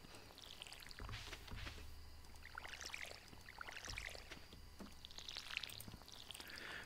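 A watering can sprinkling crops in Stardew Valley, soft splashing and pouring bursts repeating every couple of seconds at a faint, even level with no voices.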